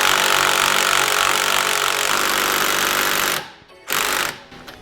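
Impact wrench hammering a Toyota Supra strut nut during a spring installation, giving a continuous loud rattling burst close by for about three seconds before stopping, then a brief short blip.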